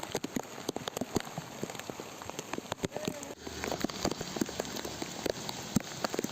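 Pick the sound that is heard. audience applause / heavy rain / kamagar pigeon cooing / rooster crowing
heavy rain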